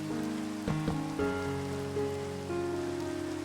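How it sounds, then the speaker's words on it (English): Rain falls steadily in the blocky world of Minecraft, a continuous soft patter running through the scene alongside a droning musical background. "And of course it's feckin' raining."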